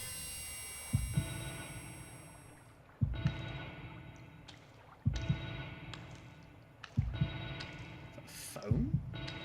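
In the horror game The Evil Within 2, a telephone rings in repeated bursts, each starting with a sharp electronic jangle and then fading before the next, four or five rings evenly spaced over the stretch, with no talk.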